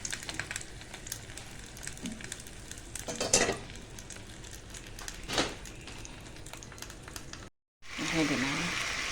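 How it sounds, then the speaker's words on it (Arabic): Meat sizzling and frying in a pan as it releases its water, a steady hiss with a couple of louder bursts, then a brief cut followed by a brighter, stronger sizzle. "انا عندي كده اللحمة بتتحمر وتنزل المية بتاعتها زي ما انتوا شايفين كده"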